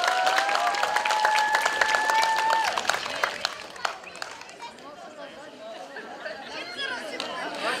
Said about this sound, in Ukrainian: Оплески Ярославі!